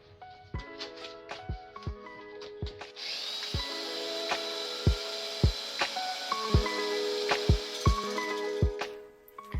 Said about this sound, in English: I've never used a cutoff wheel. Here goes nothing.